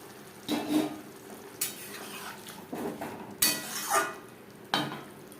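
Potatoes and peas being stirred in a pan while cooking, with repeated scraping and clinking strokes of a utensil against the pan over a steady low sizzle, close and moderately loud.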